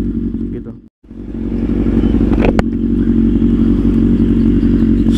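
A Kawasaki Z800 motorcycle engine on a test ride, loud and close, with a steady rumbling drone that briefly cuts out near the start, then holds constant with a short clatter midway.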